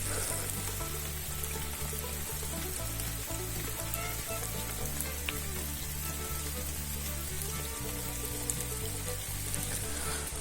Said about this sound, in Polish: Troszkę się uspokoił deszcz.